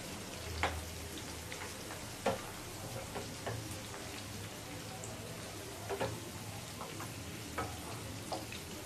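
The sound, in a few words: deep frying sweet corn until light golden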